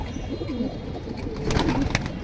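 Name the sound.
pigeons cooing in cages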